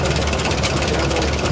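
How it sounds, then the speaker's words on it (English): The 650 cubic inch Waukesha engine of a Linn tractor runs loud and close, a dense rumbling drone with steady low-end throb and no talk. "It's a Waukesha engine. 650 cubic inch."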